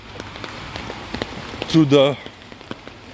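Rain patters steadily on surfaces during a wet morning walk outdoors, with a brief voice speaking partway through over the constant hiss of falling drops.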